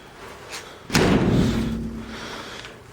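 One solid door slam on an old, rusty Volkswagen, a close heavy thud with a short resonant decay, standing alone without talk.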